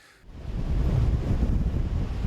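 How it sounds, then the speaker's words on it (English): Big storm waves and high winds on the Cornish coast at St Ives during Storm Eunice, a loud, constant roar of surf and buffeting wind noise on the microphone after a brief quieter start. "On the coast at St Ives in Cornwall, the high winds brought big waves and a warning to keep away from the water."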